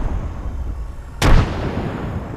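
A single frag grenade blast in Apex Legends, one sharp close explosion with a short rumbling tail that rises out of steady in-game background noise.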